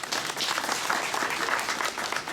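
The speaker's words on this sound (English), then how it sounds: "I want people to clap for you." An audience clapping at an appreciation event for first graders, dense steady applause filling the whole stretch at moderate loudness, with no talking over it.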